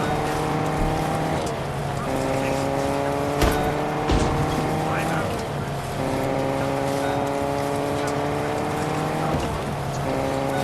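A car engine drones steadily with shifting pitch as a vehicle is driven in the video game Fortnite, with a few sharp impacts, loud and continuous throughout.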